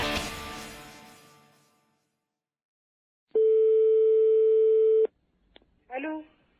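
A telephone gives a single steady ring before a prank call is answered. The tone sounds alone for under two seconds, with a voice fading out before it and a short voice after.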